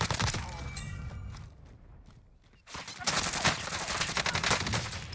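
Bursts of gunfire from a first-person shooter video game, loud crackling shots at the start and a dense rapid volley after a brief quiet gap, with faint voice underneath.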